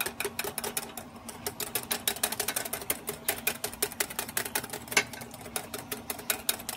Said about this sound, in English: you never stop whisking